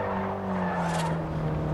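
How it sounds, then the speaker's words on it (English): A car in the Forza Horizon racing game slides through a corner, its tires squealing in a steady tonal whine over the constant drone of the engine, with no talk. "Nice to just slide the car."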